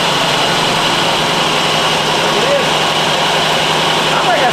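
A 1983 Jeep CJ-7 with a carbureted engine idles after a cold start, holding a loud, steady, even drone close by, with a voice talking over it.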